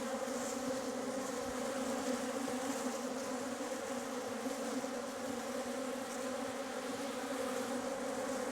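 A swarm of honeybees buzzes densely around a beekeeper on a Portuguese farm, a loud continuous close-up drone with a steady pitch and no pauses.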